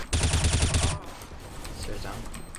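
A rapid burst of gunshots in Counter-Strike on the Mirage map lasts about a second, loud and rhythmic, then fades into quieter background noise with faint voices.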